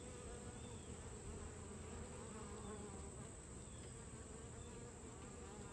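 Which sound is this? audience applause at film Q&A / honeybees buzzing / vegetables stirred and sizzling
honeybees buzzing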